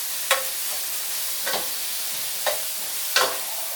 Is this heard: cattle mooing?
no